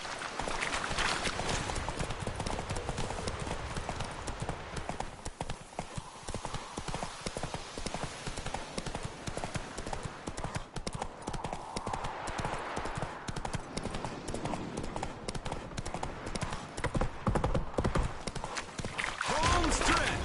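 Geralt's horse Roach gallops in The Witcher 3, with steady, rapid hoofbeats under music and game ambience throughout, while voices speak over the riding.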